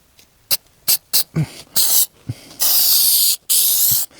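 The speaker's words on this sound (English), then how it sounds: "So I'm going to spray the ceiling and I'm also going to spray this, the fabric that's hanging down here" Heavy-duty automotive headliner adhesive from an aerosol can sprayed onto a car's ceiling and hanging fabric: several short sharp hissing bursts, then two longer sustained sprays, close and loud with brief pauses between.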